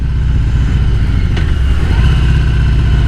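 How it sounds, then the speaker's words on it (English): A 2022 Harley-Davidson Heritage motorcycle engine rumbles loud and close during a ride, a steady deep drone with slight shifts in pitch and no talking. "This feels like a whole different engine on this bike."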